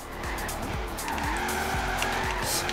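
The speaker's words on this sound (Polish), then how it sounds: "Dobry drifting!" A car in the Forza Horizon racing game drifts with repeated tire squeals over a constant engine roar, loud and close, each squeal sweeping in pitch as the car slides.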